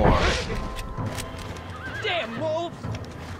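In a Red Dead video game, a horse neighs during a wolf attack, whinnying in a couple of rising and falling calls over hoofbeats and background game sounds.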